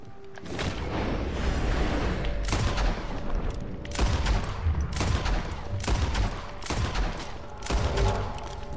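Rapid bursts of gunfire from the video game Red Dead Redemption 2, loud and repeated across the whole stretch, with sharp shot transients over a constant din of battle.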